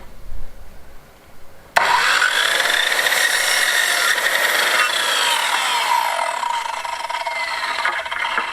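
A saw starts abruptly and rasps through a wooden skirting board while angled cuts are made, a loud continuous grinding stroke that eases off near the end.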